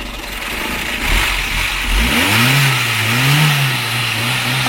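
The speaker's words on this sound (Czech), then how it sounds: "Motor nechytná úplně přesně, ale jinak má krásný čistý syrový zvuk." A new, not yet run-in car engine, 56 kW output, idles low, then revs up in a rising and falling sweep, loud and close, without talk.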